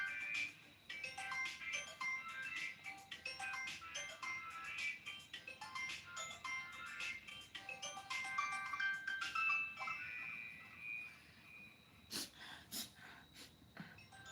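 A phone rings with a repeating electronic melody at home, tones looping steadily and moderately loud, with people talking over it.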